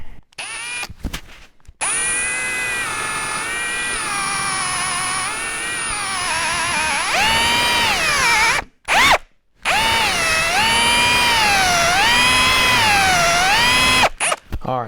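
A wood lathe spins a hard cocobolo pen blank, giving a loud, close, whining power-tool drone whose pitch rises and falls as the tool bites. The sound cuts out briefly a few times.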